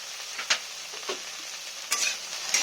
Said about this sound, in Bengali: ঢেঁড়সগুলো একটু লাল লাল করে ভেজে নেব